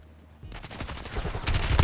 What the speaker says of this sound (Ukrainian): А справа стріляє.